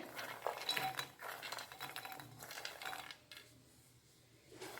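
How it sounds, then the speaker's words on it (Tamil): Roasted lotus seeds are poured into a mixer jar, making light clattering, rattling and clinking bursts against the jar at close range, then a quieter pause and a final short rattle, with no talking. "நம்ம வறுத்த லோட்டஸ் சீடில் பாதி அளவு இந்த மிக்சி ஜாரில் சேர்த்துட்றேன்"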